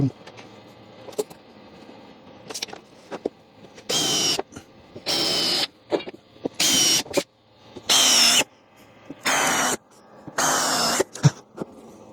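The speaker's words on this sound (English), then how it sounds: "I'm going to put probably 6 screws in there just to hold it still" A power drill drives screws into wood while a backlight box for a laser-engraved mirror is built, giving about seven loud, close whirring bursts of a second or so each, separated by short pauses and small handling knocks.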